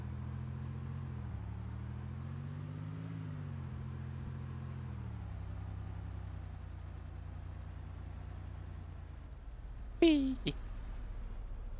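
A car in DayZ (ARMA 2) driving along a road, a low, steady engine drone whose pitch rises and falls slightly, ending with a couple of sharp clicks or knocks near the end, while people talk.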